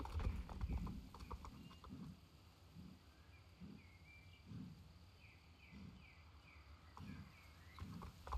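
Horse hooves clip-clopping at a walk in the video game Star Stable, an even rhythmic beat with faint ambient insect chirps and a quiet voice talking.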